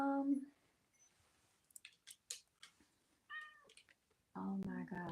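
A house cat meows several times indoors, fairly close, with short harmonic cries at the start and a longer, louder run at the end, broken by faint rustles and a person speaking briefly in between.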